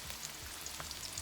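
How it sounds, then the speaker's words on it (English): Onions sautéing in a pan over medium-high heat for a Filipino vegan pinakbet give a faint, steady sizzle with light crackles, heard alone. "I'm going to add in the onions. Let that cook for about a minute."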